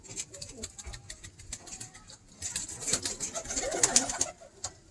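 Pigeons coo softly amid chirps and fluttering, with people talking nearby.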